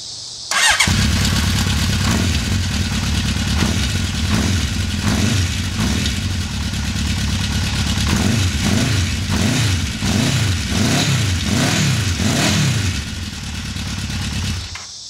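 A warmed-up 1980 Honda CB900 Custom on its original exhaust pipes fires up close by, settles into a steady rumbling idle, then is blipped through a series of quick, rhythmic revs before easing back.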